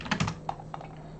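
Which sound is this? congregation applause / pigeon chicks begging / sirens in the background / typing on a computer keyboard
typing on a computer keyboard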